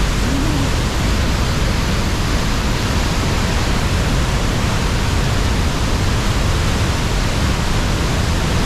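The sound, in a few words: waterfall, rushing water from the mountains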